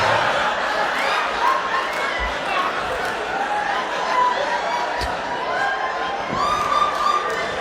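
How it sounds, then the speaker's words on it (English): A stand-up comedy audience laughs, chuckles and cheers in scattered bursts, a lively crowd murmur filling the room while a voice talks over it. "why is everyone like laughing and cheering?"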